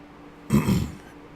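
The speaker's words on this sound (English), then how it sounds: "Trying to get rid of that cough." One short, low throat-clearing cough from a man, brief and fairly close, against a quiet background.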